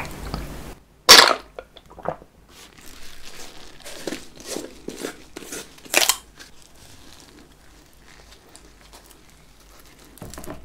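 Crunchy bites into a frozen-style croissant filled with chocolate ice cream, with Nutella and Hershey's chocolate milk nearby: sharp close crackles and crumbling, then softer chewing and quiet gaps.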